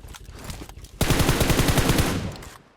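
Rapid automatic gunfire in a battle royale shooter, a loud sustained burst of evenly spaced shots after a quieter stretch of distant noise.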